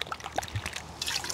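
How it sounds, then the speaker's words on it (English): Water trickling and pouring into a paper drinking cup, a short close dribble lasting about a second with a brighter splash near the end. "pour some water in that thing."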